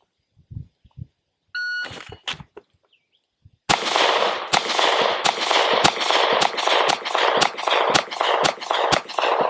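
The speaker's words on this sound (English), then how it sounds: "Now shooting the test" Rapid sharp gunshots from a Sig P365 pistol during a timed shooting test, about a dozen loud cracks in a quick irregular string after a few beeps and handling sounds.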